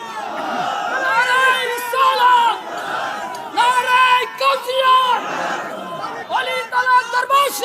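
A large crowd at an Islamic religious sermon gathering shouts slogans in loud, surging bursts with raised voices and cries, rising and falling in waves over several seconds.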